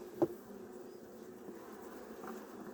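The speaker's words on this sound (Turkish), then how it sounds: "arı biraz sesli" Honeybees drone at a hive in November in a low, steady buzz, with a soft tap near the start and no talking.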